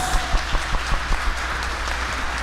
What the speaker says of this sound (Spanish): Un aplauso al coro.